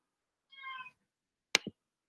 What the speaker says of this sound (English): You're my cat.